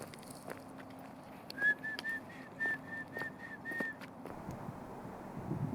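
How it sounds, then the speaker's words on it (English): A person whistles a series of short, clear rising notes toward a blackbird outdoors, repeated roughly evenly over a few seconds, fairly close, with faint wind noise behind. "I try to whistle to it sometimes."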